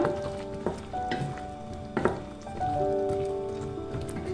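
A spoon scrapes and clinks around a pan as potato-cauliflower curry is stirred, with a few sharp knocks and low sizzling beneath, no talking.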